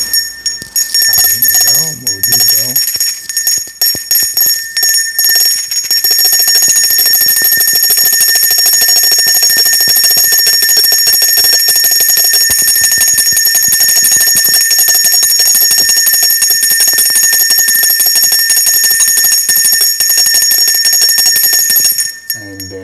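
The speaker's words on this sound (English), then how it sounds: "And I will ring my bell." A loud, continuous bell rings on and on with a shrill metallic tone, sustained for over twenty seconds before stopping abruptly.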